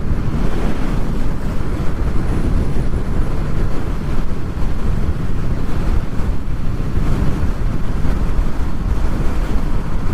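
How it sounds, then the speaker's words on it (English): Strong, steady wind roar buffets the microphone during a Honda VFR800 motorcycle ride through wet, windy Sleddale, a loud continuous rush with no speech. "A lot of wind."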